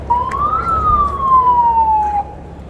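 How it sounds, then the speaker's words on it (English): A bullhorn siren set off at a street protest, a single loud near wail rising then sliding slowly down in pitch over about two seconds before cutting off, over a low crowd rumble. "There's a button on a bullhorn that makes that siren sound"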